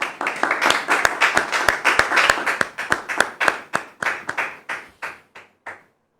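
Studio audience on a television set clapping in unison, sharp rhythmic claps in a steady beat that thin out and fade over about six seconds.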